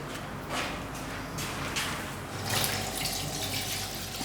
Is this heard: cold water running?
yes